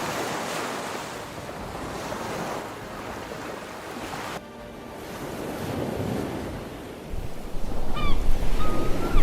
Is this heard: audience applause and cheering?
no